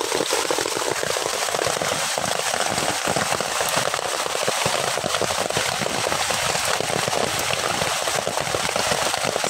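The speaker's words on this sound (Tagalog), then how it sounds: "Tapos, malakas pa ang ulan." Heavy rain pours steadily on a mud crab hunting trip, a dense, unbroken hiss of drops drumming on surfaces that stays loud and constant throughout.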